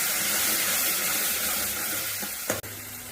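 Ground tomato paste hits hot oil in a village kitchen pan, giving a steady, close, broadband sizzle that runs throughout with one brief clunk near the end.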